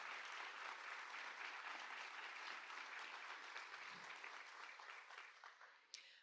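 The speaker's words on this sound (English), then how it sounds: "Let's give one more round of applause for today's Impact Award recipients." An audience at an Impact Award summit gives a steady, sustained round of applause, heard from a distance. The clapping is fairly faint and tapers slightly at the end.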